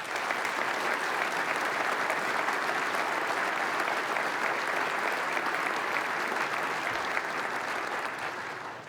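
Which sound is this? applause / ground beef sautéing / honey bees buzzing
applause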